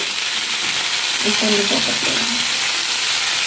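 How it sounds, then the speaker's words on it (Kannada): Fish masala fry sizzles steadily and loudly in oil in a pan, a dense continuous hiss throughout with a faint clatter partway through. "ಈಗ ಸ್ವಲ್ಪ ಎಣ್ಣೆ ಹಾಕಿದ್ದೇನೆ ಈಗ ಇನ್ನೊಂದು ಸೈಡು ಬೇಯಲಿ"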